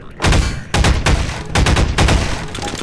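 Rapid bursts of gunfire from a gun in Half-Life 2, loud and close, coming in four tight volleys of quick repeated shots over a few seconds.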